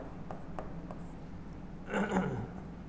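Pen writing on a board or paper during a reasoning lesson, a few light taps then a short scratchy stroke, close and quiet with no voices.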